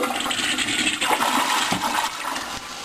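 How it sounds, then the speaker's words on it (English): A dual-flush toilet gives a short flush with the handle held briefly, a loud, close rush of swirling water that stays steady for about three seconds and eases slightly at the end. "Okay, this is a short flush."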